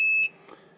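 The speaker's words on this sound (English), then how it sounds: "the continuity buzzer will work below, they quote below 50 ohm" A bench multimeter's continuity buzzer, a Vici VC8145, gives one short, clear high-pitched electronic beep at the very start, then cuts off into near silence.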